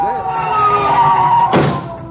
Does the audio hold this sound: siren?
yes